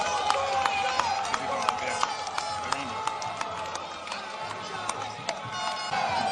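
Scattered claps and crowd noise at a Tinubu political rally in Nigeria, sharp irregular hand claps popping out above a dense murmur of voices, with someone speaking over them.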